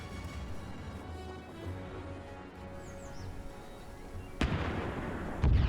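Flak 36 anti-aircraft gun fires during a WW2 St Nazaire raid battle in a video game, sharp booms breaking out near the end over a steady, noisy battlefield background with distant gunfire.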